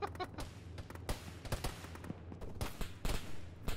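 Dense bursts of gunfire from the Arma military game, with rapid overlapping shots and crackling volleys, some close and loud and others more distant.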